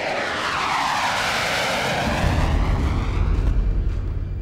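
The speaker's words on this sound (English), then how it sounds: "Day 32 and 66 of the Roosevelt's aircraft head out to pound more Afghan targets." Military jet aircraft launching from the aircraft carrier USS Roosevelt: a loud, close roaring jet engine sweeping through a pass, with a deep rumbling blast building in the second half.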